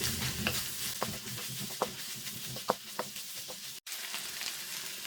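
A spoon stirs long capsicum strips and a Maggi cube in a frying pan, scattered scrapes and taps over a low sizzle, with a brief dropout near the end.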